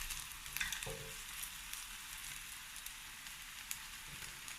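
Vegan pommes noisettes (potato balls) fry in hot oil with a continuous, soft, crackling sizzle and a brief clink near the start, quiet and steady with no talking.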